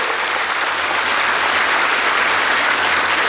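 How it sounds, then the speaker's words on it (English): Sustained, dense applause fills a hall as an audience at a medical college graduation ceremony claps for the new doctors, steady and loud throughout with no voices above it. "First of all, I would like to clap for yourself for graduating and becoming the"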